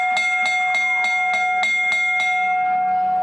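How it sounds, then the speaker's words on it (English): Bright bell at a kids' bicycle race, struck in a quick steady run of about eight even rings with a sustained ringing tone, then fading out; loud and close with no talk. "When the bell rings,"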